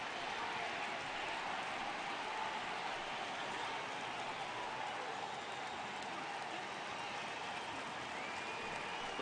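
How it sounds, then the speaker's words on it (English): Steady rain falls on the baseball field in MLB The Show 18, an even hiss that runs unbroken under faint crowd noise for the whole stretch, with no speech. "I don't know how much more rain this field can take"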